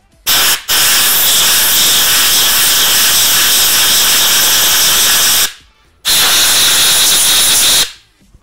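Two long, loud hissing squirts from a spray bottle close by, the first after a brief short burst, each cutting off sharply into silence.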